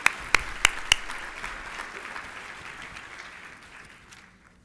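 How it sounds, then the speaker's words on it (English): Audience applause at an opening session, starting with a few sharp close claps and settling into a steady crowd clapping that fades out over several seconds. "let's give Ms. Connie Carson another round of applause"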